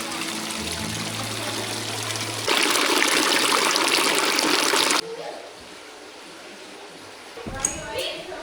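Steady hiss of flowing water at an outdoor villa, loud and continuous at first, then swelling into a stronger gush before dropping to a softer trickle, with brief speech near the end.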